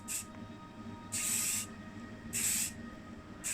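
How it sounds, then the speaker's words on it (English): Matte black aerosol spray paint applied to a plastic toy car base, three sharp, close hissing bursts of about half a second separated by quiet pauses. "so we're using the matte black in the aerosol"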